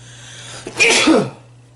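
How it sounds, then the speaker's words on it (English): A single loud, close sneeze with a short sharp intake before it, otherwise quiet with a faint steady hum. "Sorry, sneeze."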